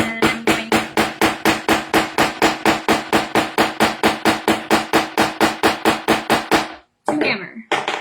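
Rapid, evenly spaced hammer blows strike a grommet cap while fitting a closure on a pageant dress, about thirty sharp close taps in a steady rhythm, then a brief shuffle after they stop.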